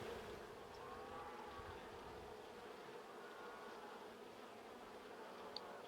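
Honey bees humming at an opened hive during a colony check, a steady, quiet drone of many insects with a few louder passes near the microphone, no talking.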